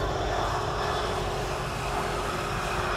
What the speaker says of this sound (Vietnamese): hãng chuyên vận hành các loại máy bay phản lực kinh doanh, loại Bombardier Challenger 605 như chiếc này